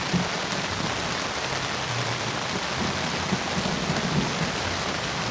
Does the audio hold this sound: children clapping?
no